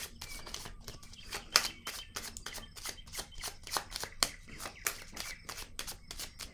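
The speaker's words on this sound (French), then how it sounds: "Je vais déposer encore une autre carte." During a tarot-style card reading, cards are handled and laid down on a table, producing a quick irregular run of crisp flicks and soft taps, close and fairly quiet.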